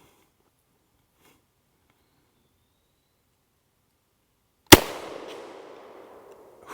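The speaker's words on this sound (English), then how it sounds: "that'll loosen your teeth when you shoot it" A 10 gauge shotgun fires a single Federal TSS number 7 shot load, one sharp, loud blast after near silence, followed by a decaying echo rolling across the range.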